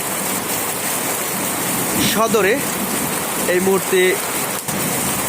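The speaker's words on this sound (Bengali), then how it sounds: "এই মুহূর্তে কিন্তু বৃষ্টি হচ্ছে বেশ ভালো বৃষ্টি হচ্ছে" Heavy rain pours down in Sreepur, Gazipur, a loud, steady hiss that fills the whole scene while someone speaks over it.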